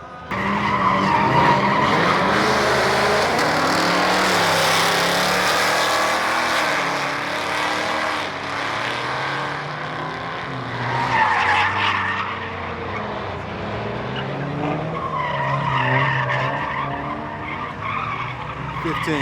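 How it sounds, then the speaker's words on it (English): A 10-speed Dodge Challenger with a bolt-on E85 setup races at a drag strip, its tires skidding and squealing loudly and continuously while the engine roars, alone with no talk. "I think Steve's about to race. Let's see what he do"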